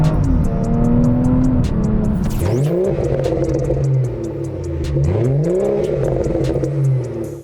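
A BMW F30 340i's B58 engine revs hard through rising gear pulls, pitch climbing, dropping at each shift and climbing again, loud and close with no talking.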